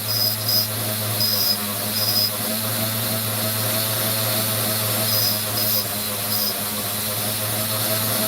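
An opal grinding machine runs steadily, a constant motor hum with a high whine, and brief higher squeals come in short bursts as the opal touches the wheel.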